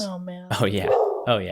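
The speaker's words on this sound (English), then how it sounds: "In case you were wondering, that was our dog" A house dog barks a couple of times indoors, with loud, close barks following a whiny vocal sound. People talk over it during a podcast recording.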